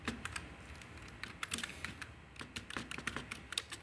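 Typing on a computer keyboard, entering a journal title on a teacher-training platform: a steady run of quick, close key clicks with uneven rhythm and small pauses, no voices.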